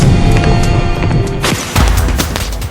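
Fireworks burst in a loud cluster of booms and crackling pops, with sharp overlapping bangs and sizzling tails, close and forceful, with no voices.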